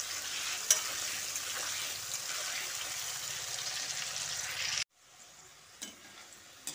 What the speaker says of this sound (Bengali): সঙ্গে অল্প একটু নুন দিয়ে আলুটাকে ভালো করে নেড়ে চেড়ে ভেজে নিচ্ছি।